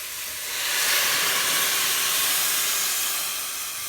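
About six cups of water pour steadily into a hot soup pot, a broad hissing, steamy rush that swells and holds for several seconds before easing slightly.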